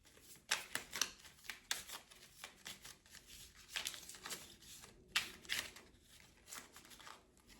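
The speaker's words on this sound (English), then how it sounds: "Just do a shuffle." Tarot cards being shuffled by hand, a run of crisp riffling and flicking bursts at close range, uneven in rhythm, with no talking.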